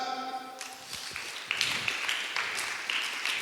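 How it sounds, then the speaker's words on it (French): A church congregation breaks into scattered clapping during a Sunday service, building after a brief pause into steady applause that mixes with a few voices. "On acclame."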